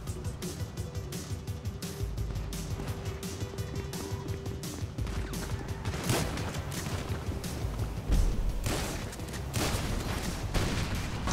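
Shotgun blasts in a GTA Online deathmatch, repeated booming shots over dense continuous game noise and explosions, loud and busy throughout.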